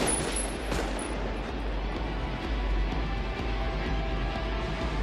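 Gunfire from the street gunfight in the film Heat, a dense, continuous wash of loud shots and rattling bursts over a heavy rumbling bed, with no clear gaps between reports.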